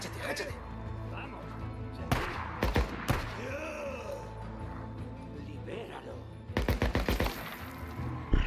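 Gunfire in the video game Days Gone: sharp bursts of shots crack out near the start and middle, then a louder rapid volley near the end, over game ambience with groaning sounds and someone talking.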